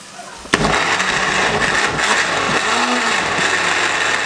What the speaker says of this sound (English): I've put the tadka into the blender.